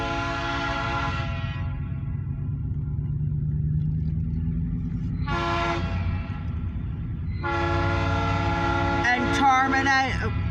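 An OC&T Alco diesel on a short freight train sounds its horn in three long blasts near Titusville, Pennsylvania, over a steady rumble of the train rolling past close by.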